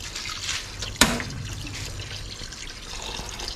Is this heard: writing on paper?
no